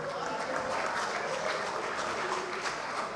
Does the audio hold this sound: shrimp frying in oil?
no